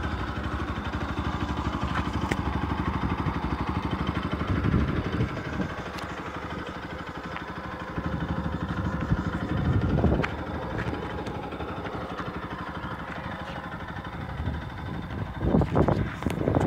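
Brand-new 2017 Bajaj Pulsar RS 200 motorcycle idling with a steady mid-pitched engine drone, broken by a few short, light revs that rise and settle back to idle.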